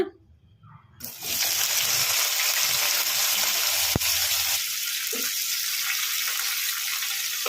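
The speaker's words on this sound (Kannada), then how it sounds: "ಟೊಮೊಟೊ ಚೆನ್ನಾಗಿ ಮೆತ್ತಗಾಗೋವರೆಗೂ ಫ್ರೈ ಮಾಡ್ಕೋಬೇಕು." Tomatoes frying in a spoonful of oil in a kadai over medium flame, a loud steady sizzle that bursts in after a brief quiet start and hisses on without talk.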